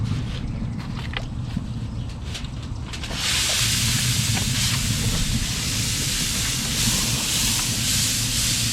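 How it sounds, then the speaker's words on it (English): A smoked pork shoulder is spritzed with a spray bottle: a few light clicks first, then a loud, continuous close-up hiss of spray that runs steadily to the end. "So go ahead and spritz it one more time before we wrap it."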